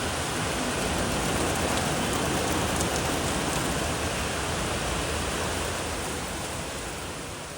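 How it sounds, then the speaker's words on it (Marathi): Steady, heavy rainfall pours down continuously, a dense hiss of drops on surfaces with no voices, easing slightly toward the end. "बाहेर खूप जास्त पाऊस पडतोय"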